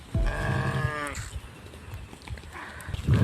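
A goat lets out one clear, wavering bleat close by during rain, followed by quieter rustling and a second faint animal call near the end.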